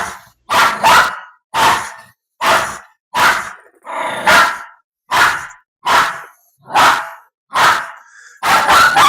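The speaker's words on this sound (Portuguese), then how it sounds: "você vê que é muito visceral esse latido dele" A Shih Tzu barks aggressively in a steady run of about ten sharp, close, loud barks, evenly spaced with short gaps, the last two coming closer together.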